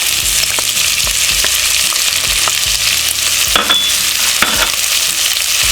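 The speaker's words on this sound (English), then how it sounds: "So now I'm adding in our onion, and our red pepper" Onion and red pepper frying for spicy rice, a loud steady sizzle filling the pan with repeated scraping stirs throughout, no voices.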